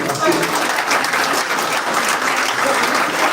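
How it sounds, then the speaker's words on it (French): Loud, sustained applause from the audience at a public information meeting about a lagoon, a dense, even crackle of many hands clapping close by that carries on throughout. "On peut les applaudir encore une fois."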